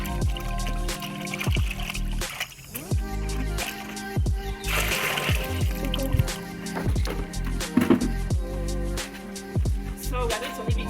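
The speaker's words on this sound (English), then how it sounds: "So we are going to leave it for the water to drain." Water drips and trickles steadily from homemade pap (ogi) as it drains, with soft wet squishing and irregular plops throughout at close range.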